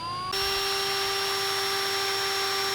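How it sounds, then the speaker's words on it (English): A power drill driving screws into a Toyota van roof whirs steadily at close range after starting abruptly, one continuous high-pitched spin. "I'm just going to pre-drill and start getting the screws in the top."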